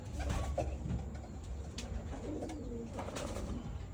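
A racing pigeon coos softly several times, low throaty calls over quiet background noise, with no one speaking.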